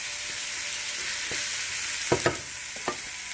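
Jackfruit seeds fry with onion and pepper in a pan, giving a steady bright sizzle broken by several quick scraping stirs in the second half, close but moderately quiet.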